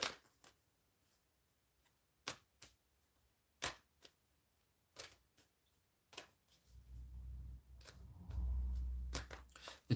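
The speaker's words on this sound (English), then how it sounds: "I need to give these a good shuffle." Tarot cards shuffled by hand at a table, giving a series of sharp riffling snaps and soft flutters spread unevenly over the stretch, with a low rumbling burst of handling noise near the end.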